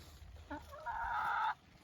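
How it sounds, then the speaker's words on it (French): A hen gives a short, close cluck followed by a longer drawn-out call, alone over faint background noise in a countryside yard. "les poules elles peuvent passer d'un endroit à un autre avec un trou"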